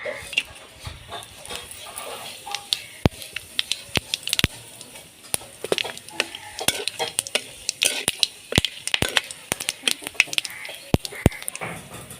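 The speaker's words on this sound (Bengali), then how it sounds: "ফোড়নে দিয়ে দেব তেজপাতা, এলাচ, দারচিনি, লবঙ্গ, গোটা জিরে।" Whole spices (bay leaf, cardamom, cinnamon, cloves and cumin) fry in oil in a pan, giving a steady sizzle broken by frequent sharp crackling pops and the clatter of stirring.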